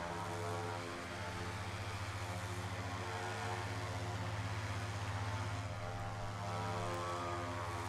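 A propeller aircraft engine in the video game Flyout drones steadily at high RPM, a constant buzzing hum with a strong low tone and no breaks for the whole stretch.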